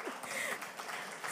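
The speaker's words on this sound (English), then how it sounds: "A round of applause again." Audience applause at a conference on youth-led climate adaptation in Africa, a quiet, even wash of clapping that sounds somewhat distant and continues without a break.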